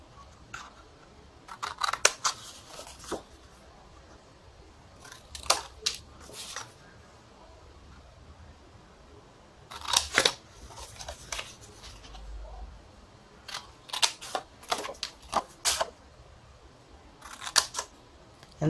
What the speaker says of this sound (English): this is what you're going to cut with your scissors.